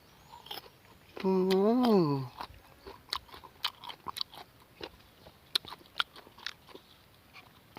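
Crisp, crunchy green mango is eaten with a spicy fermented-fish chili dip. A short voiced sound comes first, then repeated close, crisp bites and chewing crunches follow in an irregular rhythm.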